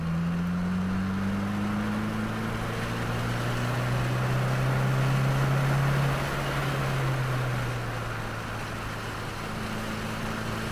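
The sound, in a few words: 2022 Subaru WRX engine under throttle on race track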